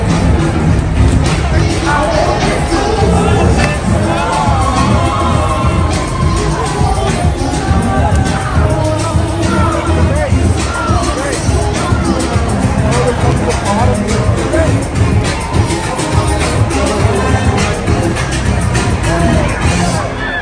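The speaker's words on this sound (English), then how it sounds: "the crowd goes on all night long" A dense nightlife crowd fills the street at an Atlanta Braves after party near Truist Park, loud continuous babble and shouting with passing traffic, steady throughout with people talking over it.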